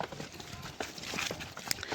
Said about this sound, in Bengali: ঘোড়া হাঁটাচ্ছে এখন